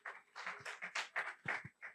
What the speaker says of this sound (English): Once again, can I ask that we give a round of applause to Femi and Bosun?